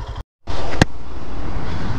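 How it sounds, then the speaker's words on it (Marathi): Steady, loud road noise while riding a Royal Enfield Himalayan motorcycle through slow-moving traffic near the Khambatki tunnel, briefly cut out, then continuing with a short sharp click. "आता हळूहळू मित्रांनो मुव्हिंग होत आहे ट्रॅफिक"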